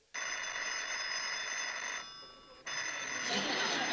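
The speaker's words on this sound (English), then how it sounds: "Phone's ringing, Sam." An old landline telephone bell rings in a small-town 1960s sitcom setting, a steady loud metallic trill with a brief drop partway through before ringing on strongly.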